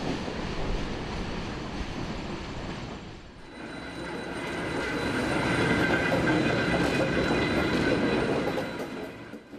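A steam locomotive runs on rails, with a continuous loud rumble and rolling wheel noise that shifts in character midway and swells toward the end.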